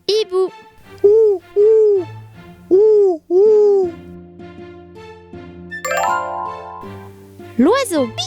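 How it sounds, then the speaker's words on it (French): A cartoon owl hoots in a series of rising-falling calls, five clear hoots at a steady pace, followed by bright chiming musical tones and a final hoot. "Le hibou."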